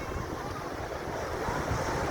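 Sea waves roll in at Cox's Bazar beach, a continuous broad wash of surf mixed with wind buffeting the microphone, loud and steady throughout.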